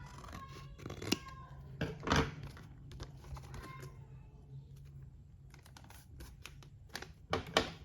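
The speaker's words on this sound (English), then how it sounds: "Let's cut that excess part." Scissors make crisp snips as they trim excess botanical washi tape, several sharp close cuts spaced irregularly, with a few light rustles of tape and paper between them.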